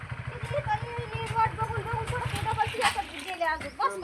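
Water from two jugs goes splashing and sloshing into a cooking pot that already holds oil, in a village kitchen, under steady talk and a low engine hum.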